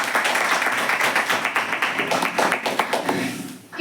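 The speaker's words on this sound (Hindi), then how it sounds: "एक जबरदस्त ताली होनी चाहिए," Enthusiastic audience applause at a product seminar, brisk dense clapping from a crowd, loud and sustained before tapering at the end.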